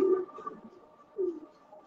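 Two short pigeon coos at a Sialkoti fancy-pigeon show, the first at the start and a second about a second later, fairly faint against a steady hum.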